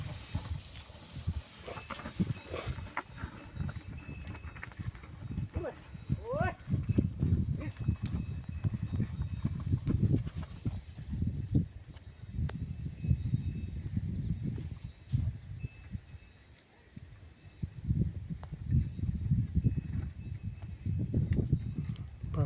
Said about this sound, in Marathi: बघा बैलाची चलनी